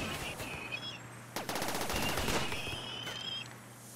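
A rapid burst of automatic gunfire in the video game Rimworld, a dense rattling volley over a couple of seconds amid other game sounds, loud and continuous.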